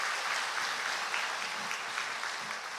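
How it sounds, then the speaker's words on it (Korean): A church congregation at a Korean Sunday worship service claps together in a steady, moderately quiet round of applause that holds evenly for about three seconds. "우리 다시 한번 박수 한번 해주시죠."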